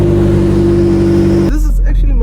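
A McLaren 650S engine runs loud and close with a steady, droning idle tone, then changes abruptly as a voice briefly speaks over it.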